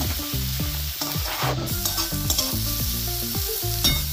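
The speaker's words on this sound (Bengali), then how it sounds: "এবারে এটাকে খুব ভালো করে ভাজতে হবে, সুন্দর করে ভেজে নিতে হবে।" Chopped green chilies fry in a pan for begun bahar, an eggplant dish, giving a steady close sizzle broken by repeated scraping stirs of a spatula against the metal, with no talk.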